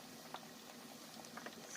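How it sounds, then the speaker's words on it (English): A turkey deep fries in hot oil, a faint continuous bubbling hiss with scattered small pops and crackles. "Fry those bad boys and make them shrink in the oil"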